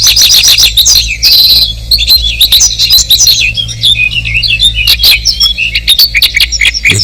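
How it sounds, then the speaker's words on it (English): Crowds of seabirds call loudly at a breeding colony in the British spring, a dense overlapping chorus of sharp chirps, squawks and trilled calls, close and loud against a low steady background. "With so many extra voices, every bird needs to stake his claim as loudly as possible."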